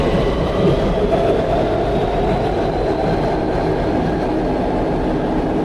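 An LRT Shah Alam Line train passes close by with a steady, loud rumble of wheels on rail and a faint clickety-clack running all the way through, no voices.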